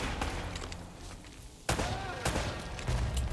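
Bursts of gunfire in the video game Uncharted: Drake's Fortune, a loud sharp volley at the midpoint followed by further shots, with someone talking over the action.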